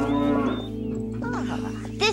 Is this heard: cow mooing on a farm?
yes